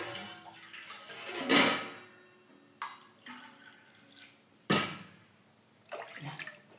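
Water poured from a glass onto sugar in a pan to make syrup for gulab jamun, a few separate splashing pours with pauses between them, close and fairly loud, with no talking.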